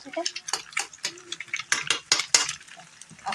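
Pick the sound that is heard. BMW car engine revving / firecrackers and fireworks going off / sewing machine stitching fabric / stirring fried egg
stirring fried egg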